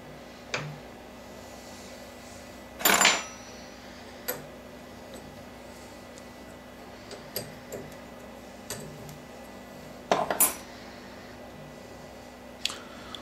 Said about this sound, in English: I have the knurling tool here, and we're going to set it up in the tool post.